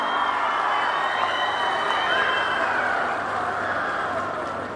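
An outdoor audience in Tirupati at a public speech event claps and cheers in a broad, continuous wash of applause that holds steady and tapers slightly toward the end.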